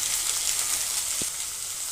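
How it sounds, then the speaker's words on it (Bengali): Carrots and other vegetables for shukto sizzle steadily in a hot pan, a close continuous crackle of frying with one brief soft knock partway through. "এই সবজিগুলো সেদ্ধ হতে একটু টাইম লাগবে, তাই এগুলো আগে দিয়ে একটু ভালো করে ভেজে নেব"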